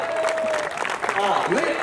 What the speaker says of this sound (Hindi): एक बार मिलकर तालियां बजाओ, बहुत शानदार।